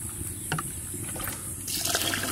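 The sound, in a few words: water poured into pot of rice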